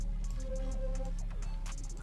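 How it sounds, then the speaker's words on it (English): Vinexi one-shot micro-type gritty lead synth pitched up toward a choir-like tone, a short bright sustained phrase with sliding pitch over a steady low hum, heard alone for about two seconds. "Another Vinexi one shot, bro. This micro type of lead sounds like this."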